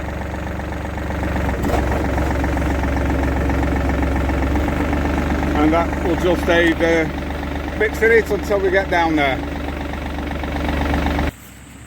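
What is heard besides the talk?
tractor engine running with PTO engaged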